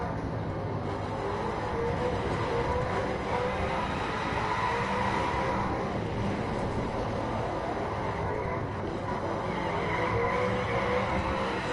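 A Nissan Skyline drifting in the racing game The Crew: a steady, loud engine roar with tire noise runs without a break the whole way through, and no voices are heard.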